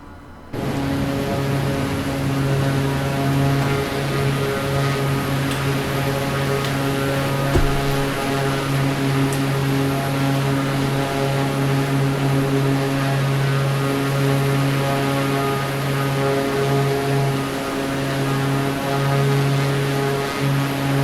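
Propeller airplanes idling at an aerodrome in Microsoft Flight Simulator 2024, a loud, steady engine drone with strong harmonic hum throughout, a brief thump partway through, and no voices.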